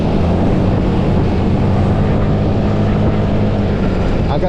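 A Honda Beat ESP scooter fitted with new 10-gram rollers is revved, its engine giving a loud, steady, close drone with a low hum throughout and no talking.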